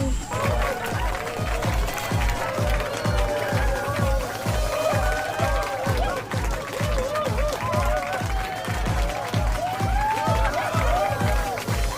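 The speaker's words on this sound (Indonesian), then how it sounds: "Tepuk tangan." A crowd applauds at a comic parody beauty pageant, continuous rhythmic clapping mixed with voices and cheering, steady and fairly close for the full length.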